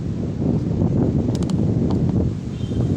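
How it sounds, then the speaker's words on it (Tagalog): Strong, steady wind roaring across the microphone outdoors while fishing in bad weather, a dense low rumble throughout with a few faint rustles on top, no voices. "Napakalakas talaga ng hangin guys."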